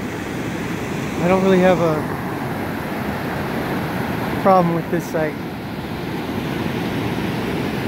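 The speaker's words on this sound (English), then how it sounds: "All the cascading water." Steady broadband rush of cascading water at Evolution Creek near a campsite, a continuous even roar with the camper speaking briefly over it twice.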